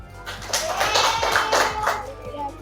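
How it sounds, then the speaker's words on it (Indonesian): A classroom of students clapping together during a lesson on hajj rituals, several quick rhythmic bursts of hand claps at moderate level, close and somewhat irregular, with no talking. "Ya, tepuk tangan."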